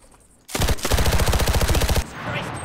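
Rapid automatic gunfire from a WW2 battle royale game, Cuisine Royale, rips out loud and close in a fast burst of about a dozen and a half rounds lasting over a second, then cuts off.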